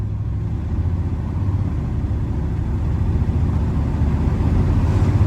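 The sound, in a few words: Chevy driving on a test ride after wheel alignment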